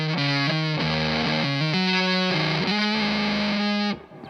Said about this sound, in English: So let's click this on, hear the eons on the neck.